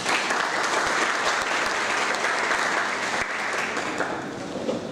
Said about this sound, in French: Ils méritent vos applaudissements.